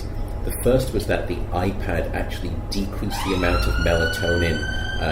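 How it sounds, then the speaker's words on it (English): Police sirens pass outside, their rising wail faint to moderate and sounding beneath a man's steady lecture-style speech throughout. "Excuse the sirens."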